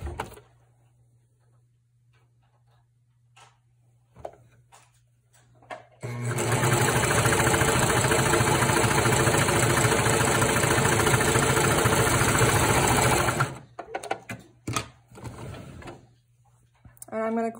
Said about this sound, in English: we'll just go ahead and send that through the serger.